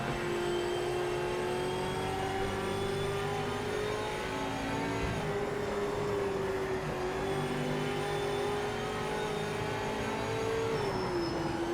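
A race car engine in Project Motor Racing at Bathurst holds a loud, steady drone through a lap, its pitch rising and dipping gently between gear changes with no talk over it.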